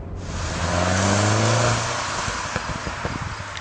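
A 2013 Mazda MX-5 Miata or 2013 MINI Roadster Cooper S engine revs hard with a rising, roaring pitch, then backs off into crackling pops and burbles from the exhaust.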